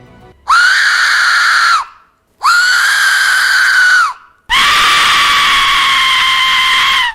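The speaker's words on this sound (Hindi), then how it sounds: "ये एक विसल से निकली हुई आवाज है जिसे #डेथ विसल भी कहते हैं" A death whistle lets out three piercing, scream-like shrieks that sound close and loud. The first two are shorter with brief gaps between them, and the last is longer and sustained. No talking.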